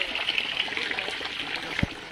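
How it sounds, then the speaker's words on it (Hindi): Drain water spilling out from a channel toward the Ganges makes a steady, close gushing trickle, with one brief low thump near the end and no speech. "देख रहे हैं यहाँ से नाला का पानी निकल के जाता है गंगा मैया में।"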